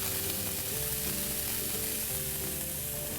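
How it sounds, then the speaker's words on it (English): Pancetta sizzles steadily in a frying pan, close and even, with a low hum underneath and no voices. "Sort of got a nice sizzle there."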